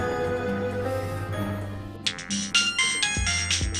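A phone ringtone sounds for an incoming call, a bright repeating melodic tone that begins partway through over a low steady background hum, playing alone without talk.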